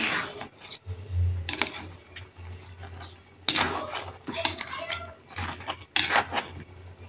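A spoon scrapes and clinks in a pot of coconut milk vegetable stew with crab, irregular stirring clatter at close range, with a low electrical hum beneath and a person talking over it.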